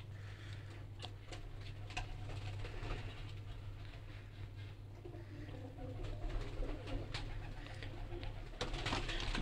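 Kasuri pigeons coo steadily in a loft, low murmuring calls repeating over a constant hum, with occasional sharp clicks and wing-like patter nearby.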